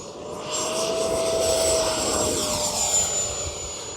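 An FMS Viper 70mm RC jet plane flies overhead with a steady, loud whine and rushing roar that swells and holds for a few seconds.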